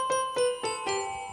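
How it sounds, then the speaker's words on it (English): A Lowrey organ plays piano and bells voices together, four struck chords in a steady slow rhythm, each with a bright bell-like ring that sustains and overlaps the next, clear and close with no talking. "In this case, I have piano and bells."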